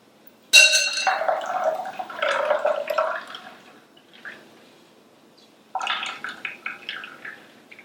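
Homemade almond milk strains through a fine strainer, giving close splashy trickles and drips in two bursts separated by a quiet gap.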